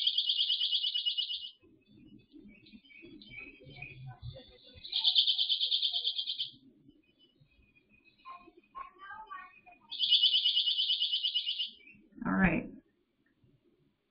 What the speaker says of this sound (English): that is what a pine warbler sounds like